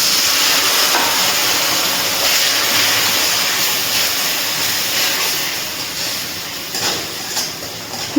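Water poured into a pan of frying cumin, coriander, turmeric, Kashmiri chili powder and salt gives a loud, continuous steamy hiss and sizzle that tapers slightly near the end, with no speech.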